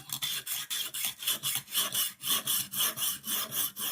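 A Rough Ryder knife blade drawn across a Lansky guided sharpening stone in quick, even back-and-forth strokes, about fourteen rasping passes in four seconds, close and fairly quiet, with no talking.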